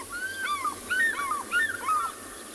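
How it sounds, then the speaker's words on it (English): A pair of African fish eagles call together at sunset on a safari reserve, giving repeated ringing, yelping cries in three bursts over a steady background hiss, moderately distant. "that was our African fish eagle that was just making sound, both of them together"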